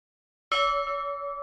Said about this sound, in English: On the last peal of the village bell, you can dry the sounds as it fades into silence.